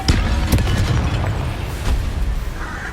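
Explosions from the Confringo spell in Hogwarts Legacy, a few sharp booming bursts in quick succession at the start, then rumbling, scattered pops and a fading fiery crackle.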